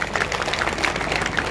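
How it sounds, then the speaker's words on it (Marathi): An audience at an outdoor film launch ceremony in a village breaks into dense, steady clapping, with many hands going at once, moderately loud and filling the whole short moment. "जोरदार टाळ्या होऊ देत."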